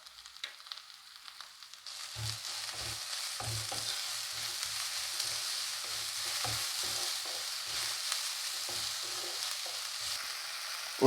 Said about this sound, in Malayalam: ഇഞ്ചിയുടെയും വെളുത്തുള്ളിയുടെയും പച്ചമണം മാറുന്നതുവരെ ചെറുതായിട്ടൊന്ന് വഴറ്റി കൊടുക്കാം.